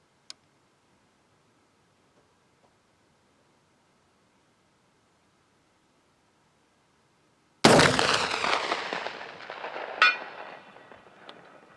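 A TC Renegade .50 caliber muzzleloading rifle with a stock 1:48 twist fires once at a steel target 500 yards away. Quiet lingers before a single sharp, loud blast, which trails off into a rolling echo with a second crack soon after.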